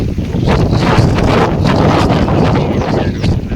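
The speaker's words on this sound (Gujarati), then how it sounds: "જોરદાર પવન" Strong, steady cyclone wind in a village, roaring and buffeting across the whole clip, loud and close with gusty broadband rushing and no voices.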